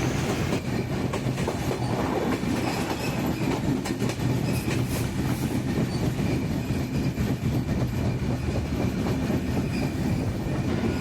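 A train rolls slowly into Hili railway station near the Bangladesh border, heard from on board as a steady close rumble with rhythmic wheel clatter and occasional squeals.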